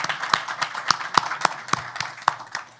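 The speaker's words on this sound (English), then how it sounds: "So please join me in giving all of those a round of applause." At a civics education event, an audience joins in a round of applause, heard as sparse, sharp hand claps falling in a fairly regular beat, each one distinct against a quiet room.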